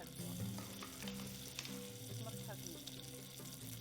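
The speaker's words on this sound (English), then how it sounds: "Once you hear the sizzle," Onion rings sauté over medium heat in a pan, giving a steady, fairly quiet sizzle with intermittent scraping and clinks as they are stirred.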